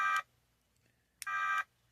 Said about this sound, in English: Okay, that's the alarm.